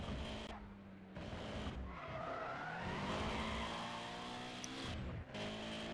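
Ford Capri RS3100 driving in the racing video game Need for Speed World, engine revving through rising and falling gear changes with tire squeal, loud and continuous with brief dips between shifts.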